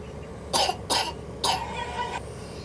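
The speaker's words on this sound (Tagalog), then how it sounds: "Ba't ka nagkaubo ha? Ba't ka nagkaubo?" Three short, harsh coughs close by, quickly following one another, then a brief faint rasp.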